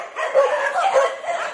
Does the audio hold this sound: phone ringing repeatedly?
no